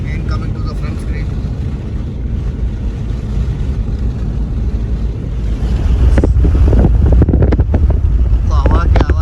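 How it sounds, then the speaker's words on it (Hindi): Strong mountain wind blowing across a high pass, roaring and buffeting against the microphone in a dense, continuous low rumble that swells louder partway through. "तो हवा की आवाज़ आ रही हो, इमेजिन करो कितनी तेज़ हवा है, कितनी तेज़।"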